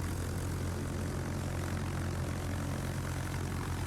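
Propeller bomber engines from a US Navy Yorktown aircraft carrier in the naval game World of Warships make a steady, unbroken droning roar with no break or change throughout.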